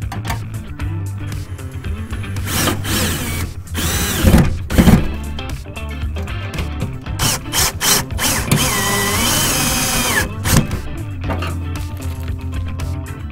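A cordless screwdriver tightens screws into a flush-mount electrical box, heard close and loud as a series of whirring, ratcheting bursts of varying length with short pauses between them.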